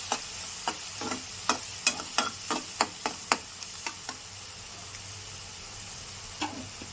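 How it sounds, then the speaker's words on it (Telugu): Chicken and onion frying in a pan, with a steady hiss under a quick run of sharp spatula scrapes and taps that thin out, then one more stroke near the end, close and fairly quiet with no talking. "ఉల్లిపాయ చికెన్ కూడా మళ్ళీ వేగాలి"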